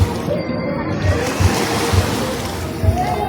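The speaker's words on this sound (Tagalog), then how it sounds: "Ayan na yung alon, oh. Malakas yan, malaki." Strong, large ocean waves churn at a beach in Nasugbu, Batangas, a loud continuous wash with low thumping surges, as people talk nearby.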